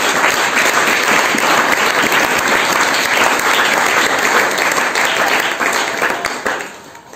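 A church congregation applauds during a Sunday worship service, a dense, sustained wash of clapping that holds steady for several seconds before tapering off at the end.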